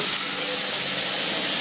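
About three onions sauté in a pan for tomato rice, giving a loud, continuous hissing sizzle with no breaks.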